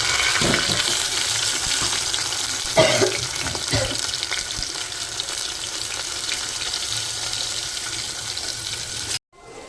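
Tomatoes and chillies hit a sizzling pan for khichdi, giving a steady hissing fry with a few soft knocks and stirring clinks that runs on evenly until it cuts off abruptly.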